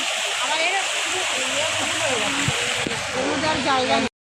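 Steady rushing water from a waterfall passed while walking nearby, a continuous loud wash that stops abruptly, with voices chattering over it.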